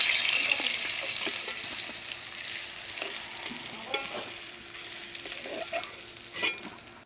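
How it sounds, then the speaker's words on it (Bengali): Brinjal slices fry in the leftover hot oil in a wok after the hilsa, a loud, steady hiss that eases off slightly, with occasional soft clinks and stirring knocks close by and no speech. "কড়ার ওই তেলেতেই বেগুনগুলোকে ভেজে নেব।"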